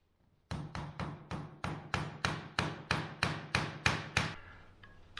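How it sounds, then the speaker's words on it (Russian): A hammer drives nails to fix a plaster template for handmade plaster moulding: about eleven sharp, evenly spaced blows ring out close and loud, then stop, with no talk. "Надо на 2 гвоздя зафиксировать, и будет уже хорошо."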